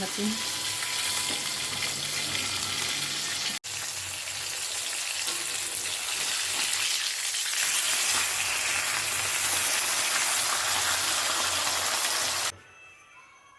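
Pomfret fish fries in hot oil with a loud, continuous crackling sizzle for over twelve seconds, briefly broken once, before dropping away abruptly near the end.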